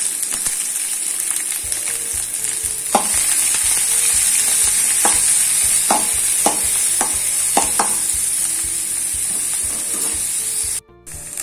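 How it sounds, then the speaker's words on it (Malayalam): Chopped onions and green chillies sauté in a hot pan, with a steady loud sizzle broken by repeated scraping stirs of a spatula at close range and no talking. "അരിഞ്ഞു വെച്ചിരിക്കുന്ന സവോളയും പച്ചമുളകും ചേർത്ത് കൊടുക്കാം. ഇത് നല്ലപോലെ വഴറ്റുക."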